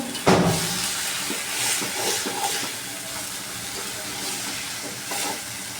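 Shrimp masala frying in a pan with a little water, a steady close sizzle and steamy hiss with occasional stirring scrapes and pops throughout.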